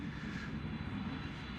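Steady low rumble of a fixed-wing airplane passing overhead outdoors, a continuous broad drone holding at even loudness throughout with no voices.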